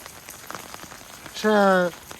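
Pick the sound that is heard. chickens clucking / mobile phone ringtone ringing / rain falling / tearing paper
rain falling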